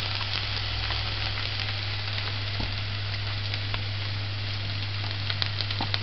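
Onions sauté and caramelize in a pan, giving a steady close sizzle and crackle with a few soft stirring touches, and no voices.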